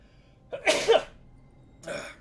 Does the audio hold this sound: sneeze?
yes